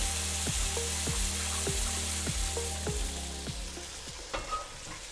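Traditional Spanish paella with tinned seafood, crushed tomatoes and warm stock sizzles steadily in a pan, with a regular series of spoon scrapes and knocks as it is stirred, loud and close with no talk.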